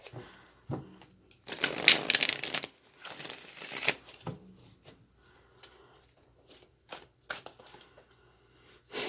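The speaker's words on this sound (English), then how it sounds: "Let's pull some cards for you guys." Tarot cards shuffle in the hands, starting with a long riffling burst followed by scattered softer taps and slides of the deck, close and without talking.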